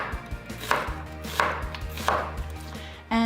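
A knife chopping an onion on a cutting board, a handful of sharp close chops spaced irregularly about half a second apart, alone with no talking.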